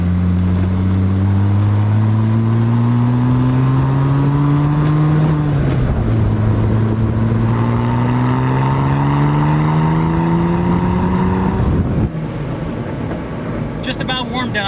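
Porsche 911 Turbo S cabriolet engine pulling through gears while driving, loud and steady with rising tones that drop at each shift, then a lull near the end.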